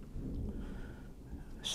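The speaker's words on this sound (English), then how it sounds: "Still it's drifting away, you can hear the thunder." Low, continuous rumble of distant thunder rolling on without clear breaks, fairly quiet and steady throughout.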